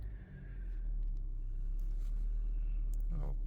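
Honda Civic engine, 2016-2021 model, idling after throttle body cleaning: a quiet, steady low rumble with a faint start at the beginning.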